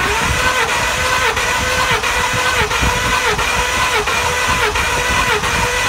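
A Ford F-250 with a 6.2 engine, suffering a misfire from a broken valve spring, cranks steadily during a compression test, a loud continuous rhythmic churning of the starter and engine without firing, heard close and alone.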